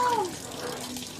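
A kitchen tap runs in a continuous hiss of flowing water while dishes are washed, close and steady, with a brief voice over the start.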